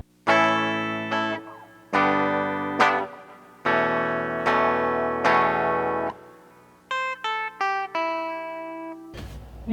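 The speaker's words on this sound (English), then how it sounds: "here's the dialed up fuzz" Electric guitar played through a homemade fuzz pedal built from an old modem, distorted chords and notes struck one after another with sustained buzzing decay, ending in a short burst of noise.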